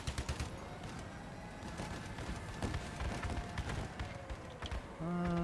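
Rapid, recoilless weapon fire in the vehicle combat game Crossout, a steady fusillade of sharp repeated shots, fairly faint, ending in a tonal engine-like hum.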